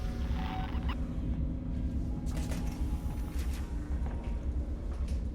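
A door opens in the video game Alien Isolation, a long mechanical creaking and grinding rumble that runs throughout, with a few sharper metallic clanks partway through; no speech.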